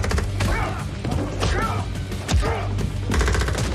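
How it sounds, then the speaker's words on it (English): Rapid machine gun fire in a video game, a dense fusillade of sharp shots and impacts sustained across the whole stretch, loud and continuous. "we can see that there's bullet spray going everywhere"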